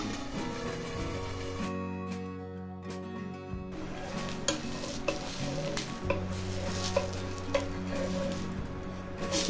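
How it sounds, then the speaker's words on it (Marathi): A pan-cooked spinach dosa crackles and sizzles loudly on a hot pan with the flame turned up, a brief lull early on before the frying hiss resumes with scraping and stirring sounds close by. "परतून आता दोन्ही बाजूने असं चांगला छान असा भाजून घ्यायचा आहे"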